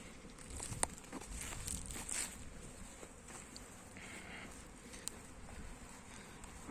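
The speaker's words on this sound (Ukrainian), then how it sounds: "Маємо бджолине злодійство в зимі. Всі літають." Honeybees robbing a colony at a hive in January winter, a steady buzzing swarm of many bees flying close by, with brief crinkling and ticking sounds over the continuous drone.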